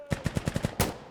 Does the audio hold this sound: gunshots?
yes